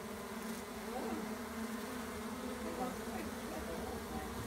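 A dense, steady buzz of a honey bee swarm humming together at close range, continuous and even throughout with no voices.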